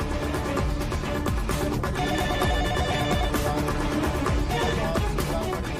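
A telephone rings on and on without being answered. The ringtone pattern repeats loudly and steadily, layered over dense background music.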